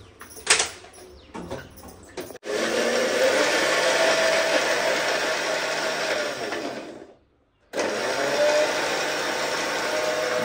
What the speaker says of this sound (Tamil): முட்டையை வந்து அரைச்சிருக்கோம் ஃப்ரெண்ட்ஸ்.